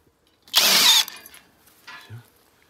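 A power screwdriver drives a self-tapping screw into the pre-drilled arch of a gothic-style greenhouse frame, a loud close whir lasting about half a second followed by a fainter shorter burst.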